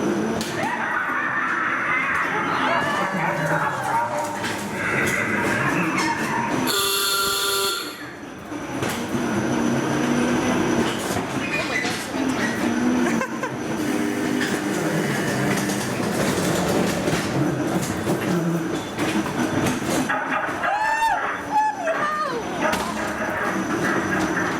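Rattling carriages of a ghost train ride at Barry Island Pleasure Park roll along the rails with continuous clattering rumble, a brief louder screech and sharp scraping bursts breaking through the dense, close mechanical noise.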